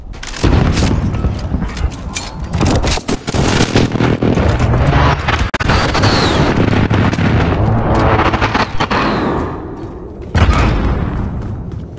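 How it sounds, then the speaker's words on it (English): Precision airstrike explosions in Call of Duty Modern Warfare online play: a dense, loud barrage of booming blasts and crackling gunfire that runs almost unbroken for twelve seconds, with a fresh heavy impact near the end. "Enemy precision airstrike inbound."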